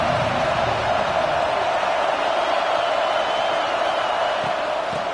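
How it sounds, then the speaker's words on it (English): At a football stadium, the crowd keeps up a loud, steady roar of cheering with no breaks. "This crowd ready to make its presence known."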